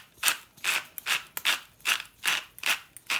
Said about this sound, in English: So what I do is take some salt and grind.